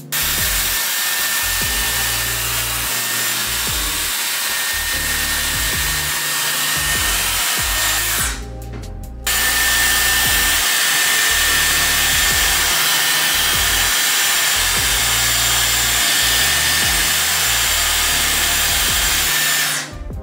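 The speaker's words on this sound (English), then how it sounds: "I'm gonna take my Dyson. So you just wanna turn it on, wrap your hair, hold it for like about 30 seconds," A Dyson hair styler blows air continuously while curling hair, a loud close steady whoosh with a brief drop in the middle, then resuming without talk.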